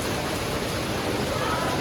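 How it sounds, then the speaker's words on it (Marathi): Rain falls steadily outside at a tiger park in Thailand, a continuous, even hiss of water with no clear breaks, fairly close and moderately loud. "पाऊस पडते बाहेर."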